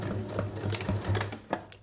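A sewing machine top stitches a fabric reusable makeup remover pad, a quick close run of clicking, whirring stitches with a low steady hum beneath.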